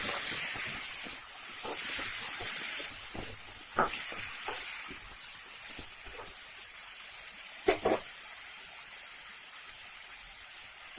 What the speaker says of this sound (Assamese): এতিয়া মাছ ভজা তেলতে মই পিঁয়াজখিনি দি দিলোঁ